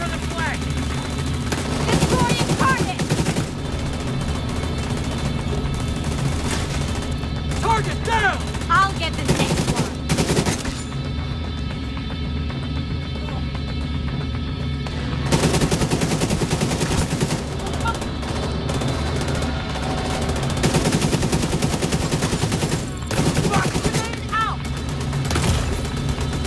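Gunfire in the video game The Division 2 during a multiplayer flag match, with dense, sustained automatic bursts and heavy shooting, a brief lull around ten to fifteen seconds, and shouted team voices over the shooting.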